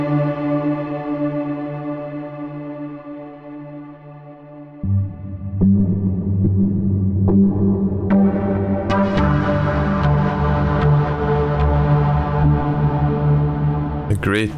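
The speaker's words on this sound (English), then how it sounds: "A great sound for soundscapes with the big reverb." A sustained Rob Papen Predator synthesizer tone with a huge, washy reverb tail, swelling as new notes layer in and ringing out densely, with no talking.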